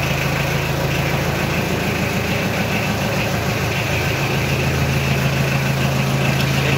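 A Kubota 4202 tractor engine idles with a steady, low mechanical rumble and faint vibration, heard close and continuous without any speech.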